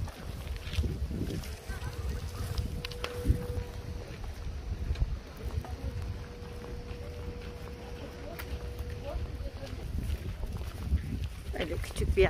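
A boat motoring across the water near a small coastal town, its low engine rumble steady throughout with a faint tonal hum and wind buffeting the microphone.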